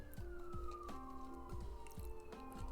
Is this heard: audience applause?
no